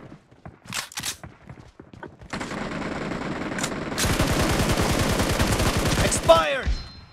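Rapid automatic gunfire in the battle royale shooter PUBG, a few light taps and steps before a sustained, fast-rhythm burst of shots that ends in a sharp ricochet-like whine.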